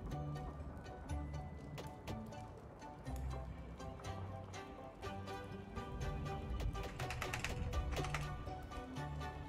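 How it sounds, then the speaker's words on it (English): Hard, rapid keystrokes hammer a computer keyboard in dense irregular bursts, close and clattery, continuing throughout with no speech over them. "Probably can hear me slamming the keyboard now."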